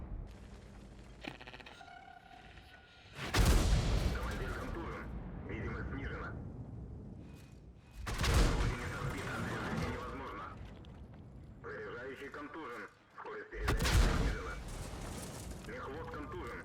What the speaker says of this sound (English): I'm just getting absolutely dumped on by an artillery, by 3 of them. They're all shooting me.